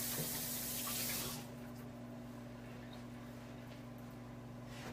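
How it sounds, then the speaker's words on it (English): Running tap water while hands are washed at a sink, a steady spray that stops after about a second and a half and leaves a quiet hum. "I'm going to have to wash my hands because this feels yucky"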